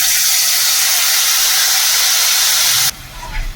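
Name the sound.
cashew, raisin, tomato and chilli paste sizzling in hot pan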